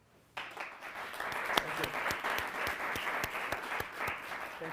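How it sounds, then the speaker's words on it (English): Audience applause for a lecturer at a music theory conference panel starts abruptly after a quiet moment and continues as a steady, moderately distant round of clapping. "Please, everyone, give a round of applause to Eric."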